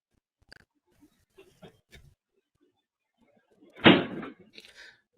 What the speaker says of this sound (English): They slammed that fridge back shut.